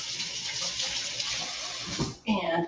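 Running water splashes from a tap while hands are washed at a kitchen sink during salmon preparation, a steady loud rush that briefly drops out before the flow shifts in tone near the end.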